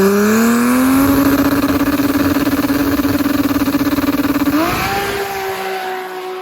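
A car engine turns over and catches, then holds a loud, rough steady rev close by before dropping in pitch toward a lower idle near the end.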